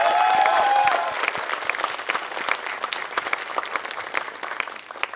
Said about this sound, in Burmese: သူ့တို့လက်ခုပ်တမ်းနဲ့အားပေးကြပါအောင်ဗျာ